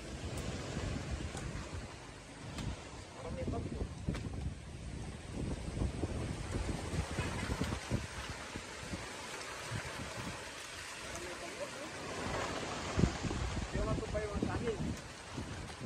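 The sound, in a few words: strong wind blowing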